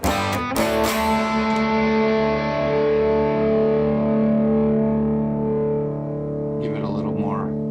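A 1992 Gibson Les Paul Studio electric guitar played through an amplifier with overdrive, delay and reverb: a loud strummed distorted chord rings out and sustains for several seconds, then a few softer picked notes sound near the end.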